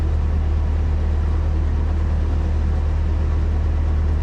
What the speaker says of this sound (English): and you hear all the road traffic